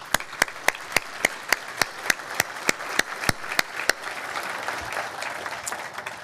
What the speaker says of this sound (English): Please join me in applause and thanking all of these key sponsors.